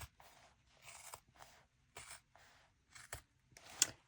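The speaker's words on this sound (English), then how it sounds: "I'm just going to come in with a nice sharp pair of scissors" Sharp scissors snip away stitching on a quilted vinyl piece, sounding as several short, quiet crisp cuts and scrapes spaced irregularly with brief pauses, close and soft in an otherwise quiet room.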